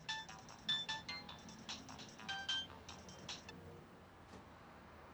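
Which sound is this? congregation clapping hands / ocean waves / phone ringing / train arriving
phone ringing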